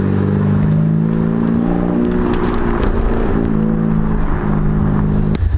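A Honda Civic Type R drives by with a steady, loud engine and exhaust drone that holds throughout, close to the listener.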